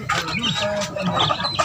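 Chickens cluck and chirp in a backyard coop holding grown birds and small newly hatched chicks, a close, busy flock sound with some human voice mixed in.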